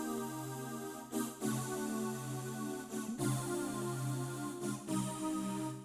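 A synthetic choir pad on a Medeli AKX10 keyboard plays sustained chords, each held for a second or two before shifting, with short gaps between.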